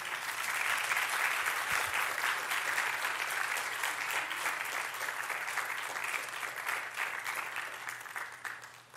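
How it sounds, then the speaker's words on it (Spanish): Sustained applause from a church congregation fills the space steadily and loudly for the whole stretch, thinning slightly toward the end. "¿Puedes darle un aplauso a Jesús?"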